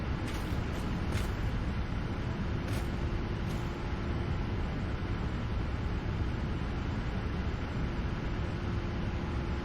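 Engines in the Satisfactory factory-building game produce a loud, constant mechanical roar with a steady low hum, broken only by a few faint clicks near the start.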